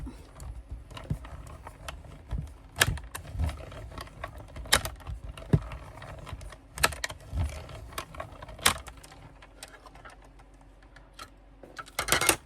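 A small die-cut machine cuts circles from paper for a scrapbooking card, giving irregular close clicks, clacks and mechanical ticks scattered across the stretch with short pauses and a busier burst near the end.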